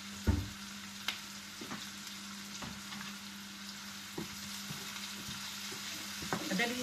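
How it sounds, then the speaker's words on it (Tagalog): Onions fry and caramelize in hot oil. A steady close sizzle carries on throughout, broken by occasional clicks of stirring, and there is no talking. "Madali lang po kasi mainit na po yung mantika. Kaya madali lang po mag-caramelize yung sibuyas."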